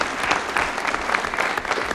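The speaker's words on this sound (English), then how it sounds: "Let's give her a big round of applause." A city council chamber audience gives a brief round of applause, a dense steady patter lasting about two seconds with no voices over it.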